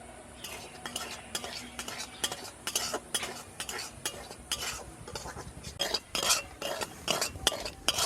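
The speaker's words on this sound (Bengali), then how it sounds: "এই রকমই বাটির আমি এক বাটি সুজি নিয়েছি গরম করার মধ্যে দিয়ে দেব দিয়ে সুজিটা ভালো করে ভেজে নেব" Semolina dry-roasting in a pan, stirred with a utensil in repeated scraping, clinking strokes against the metal, close and fairly quiet with a faint low sizzle beneath.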